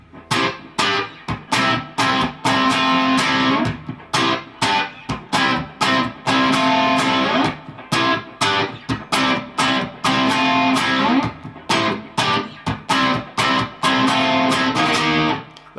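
Electric guitar plays a classic rock song intro in standard tuning, a loud, crunchy distorted riff of sharp chopped chords with short gaps, played alone without talk.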